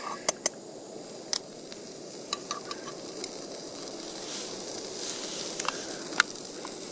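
Paneer frying in hot oil for a camp curry, a steady close sizzle with scattered sharp pops and crackles spitting out at irregular intervals; no talking.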